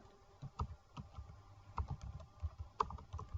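Java code being typed on a computer keyboard: quick irregular bursts of key clicks with short pauses, close and fairly quiet, no voices over it.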